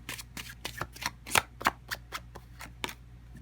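Tarot cards riffled and shuffled by hand at close range, a rapid run of crisp flicking snaps and soft slaps, fairly quiet with no talk over them.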